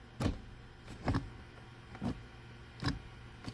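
Magnum XL shifter on a T56 manual transmission clunking between gears, four separate mechanical clicks and thunks spaced about a second apart, close and fairly quiet.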